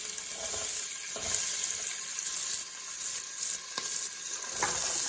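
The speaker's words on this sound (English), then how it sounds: "Onions, celery and carrot, all in there. They're cooking pretty hot in there." Diced onions, celery and carrot fry in a hot pan for chicken cacciatore, a bright, constant sizzle broken by a few clinks and stirring scrapes, with no voices.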